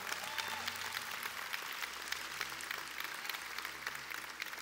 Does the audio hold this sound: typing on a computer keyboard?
no